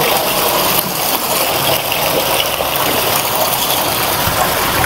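Cold water gushes steadily from a stone spout at Patan Durbar Square, a close, loud, continuous splashing flow.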